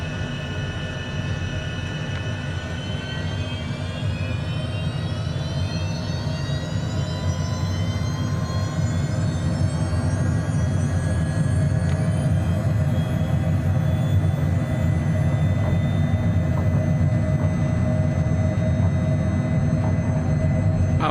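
Airliner jet engines spool up to takeoff power in Microsoft Flight Simulator 2024, a steady loud roar with rising whine tones that climbs through the takeoff roll.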